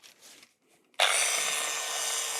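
A piston ring clamped in a grinding holder is ground. After a second of faint handling noise, a loud, harsh abrasive whine starts abruptly and holds steady to the end.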